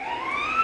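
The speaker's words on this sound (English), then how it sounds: "I apologize for the background sirens." A wailing siren rises steadily in pitch, moderately distant and continuous, with no talking.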